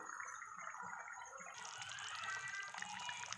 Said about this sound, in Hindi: अब इसमें हम ये पानी डाल देंगे